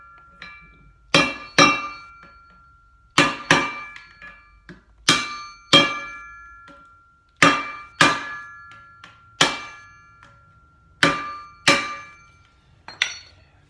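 A hammer cracks open a plastic NGC coin holder with about a dozen sharp, ringing clinks and cracks, struck one at a time in uneven bursts with short pauses, close and loud.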